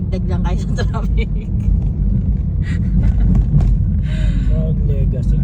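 Congested street traffic in Baguio City, a constant low rumble of cars and buses with one passing close by, under intermittent talking and a few short higher sounds near the end.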